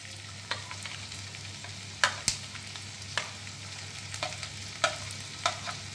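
Chopped tomatoes tipped into a pan of frying onion, garlic and ginger for paneer butter masala, giving a steady sizzle with scattered sharp clicks and scrapes of stirring, close and moderately loud, with no voices.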